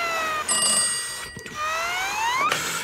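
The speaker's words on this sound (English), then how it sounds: "That's the emergency news phone!" Emergency news phone ringing loudly in a 2012 Happy Wars video game segment, two shrill bell-like rings with a brief pause between them and no talking.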